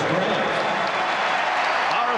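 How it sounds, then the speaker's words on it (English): Basketball arena crowd at the 1993 NBA Finals between the Chicago Bulls and Phoenix Suns jeering Horace Grant, a steady, loud roar of boos and noise under a commentator's voice. "Horace Grant hearing it from the crowd."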